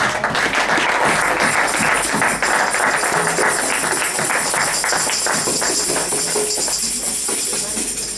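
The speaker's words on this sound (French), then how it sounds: "Acclamez très très fort." A church congregation claps loudly and continuously, dense applause with some tapping, while voices cheer and talk over it.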